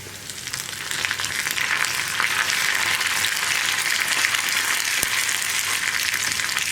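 Onions frying in hot oil with two dried red chilies and a sprig of curry leaves added, for a raw plantain theeyal; a steady, dense crackling sizzle fills the clip close up with no talk.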